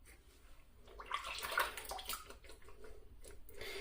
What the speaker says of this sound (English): every time you rinse this off here, I'll show you.